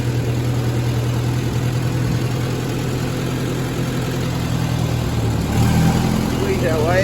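A vintage machinery engine runs steadily with a low, even drone as it drives out of a shed, loud and close throughout, with a slight rise near the end.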